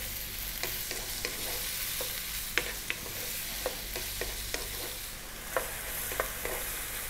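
Singapore noodles with chopped char siu pork are stir-fried over high heat, giving a steady close sizzle broken by irregular scraping clicks from a utensil turning the wok contents.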